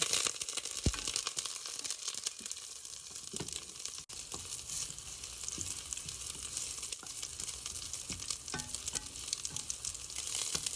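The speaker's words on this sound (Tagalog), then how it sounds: "Nagpainit na ako dito ng langis at ilalagay ko na ang aking chopped garlic at saka ginger root, loya." Chopped garlic and ginger root frying in hot cooking oil, a steady close sizzle and crackle with occasional stirring clinks and pops.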